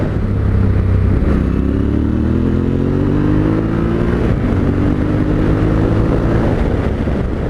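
A 2020 Yamaha Tenere 700 motorcycle cruising in fifth gear at about 45 mph and 4,000 RPM gives a loud, steady engine drone with a slightly shifting pitch, mixed with wind roar, and no speech.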